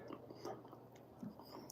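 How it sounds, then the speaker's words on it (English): A person chewing food with the mouth covered, giving soft close, irregular crunching and biting sounds over a short stretch, with no talk. "cover my mouth so you guys don't have to watch me chewing"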